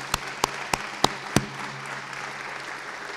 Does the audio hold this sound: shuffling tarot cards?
no